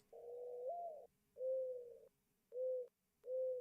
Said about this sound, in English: It sounds like just a bird.